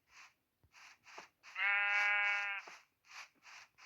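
A sheep bleats once, a loud wavering cry lasting about a second, amid repeated short bursts of a clicking, crunching sound before and after.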